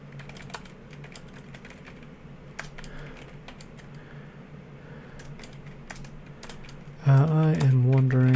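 Someone types on a computer keyboard close by, a run of light, uneven clicks over a low fan hum, then a louder tonal sound cuts in near the end.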